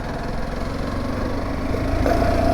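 The 18-horsepower engine of a SYM NH-T 200 motorcycle runs close by with a steady, buzzing putter that rises slightly in pitch toward the end.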